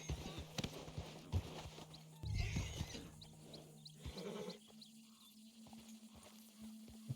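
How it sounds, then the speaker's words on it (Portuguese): An agitated horse in the video game Red Dead Redemption 2 snorts and stamps with clopping hooves, moderately close, while a player talks quietly in between. "Cavalos agitados precisam ser acalmados."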